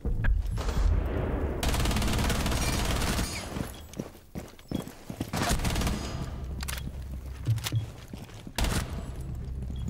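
Video game gunfire crackles in loud bursts of rapid automatic shots, broken by short pauses and faint footsteps, with the shooting starting and stopping repeatedly throughout.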